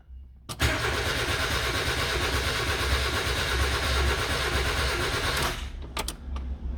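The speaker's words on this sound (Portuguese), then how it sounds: "Girando o motor tá." A Fiat Palio engine that has sat unused is cranked over by its starter for about five seconds, a loud, steady mechanical churning that stops abruptly, followed by a few sharp clicks.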